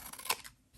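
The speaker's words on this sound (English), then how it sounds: "So let's just trim that off" Scissors trimming the curved top off a paper junk-journal piece, a single brisk crisp snip close to the mic, standing alone with no talk.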